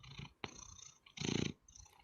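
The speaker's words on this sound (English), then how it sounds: "I don't know if you can hear him purring." A short, chubby pet cat purring up close, rhythmic rumbling bursts with breathy pauses between them, soft and intimate.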